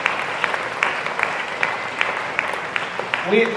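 Audience at a class of 1989 twenty-five-year high school reunion clapping, a thin scattering of hand claps over room noise with a voice starting near the end.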